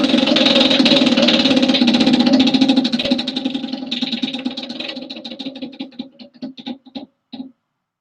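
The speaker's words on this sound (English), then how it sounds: "let's give you a spin of the wheel" A prize wheel spun during a snowboarding live stream, its ratcheting clicks starting as a fast, loud buzz, then slowing into distinct ticks that spread farther apart until the wheel stops, with no talking over it.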